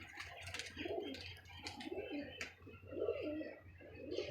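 Pigeons coo repeatedly around a rooftop net, soft throaty calls in an uneven rhythm, fairly faint, with light chirps and rustling in the background.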